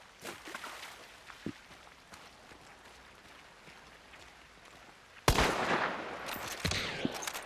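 Mosin rifle gunfire in the Hunt: Showdown video game: faint scattered shots early on, then a sudden loud, dense burst of shooting with echoing crackle from about five seconds to the end, with no talking.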